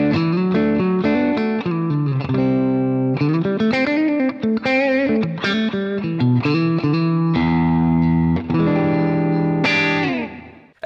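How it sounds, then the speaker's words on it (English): An electric guitar is played through an amp with a clean tone and no drive pedal, ringing chords and picked notes for about ten seconds, alone and up close. "So here's my clean tone."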